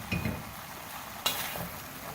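Mutton mince frying in a pan with cabbage, stirred with a spoon: a soft steady sizzle under a few close scraping strokes, one sharper scrape midway.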